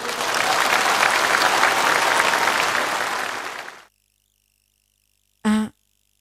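Applause from an audience at a temple talk, a dense burst of clapping lasting a few seconds before cutting off to silence, then a short spoken sound.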